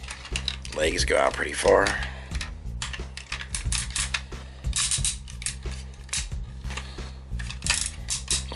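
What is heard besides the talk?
ratchet joints clicking on Transformers MP-22 Ultra Magnus toy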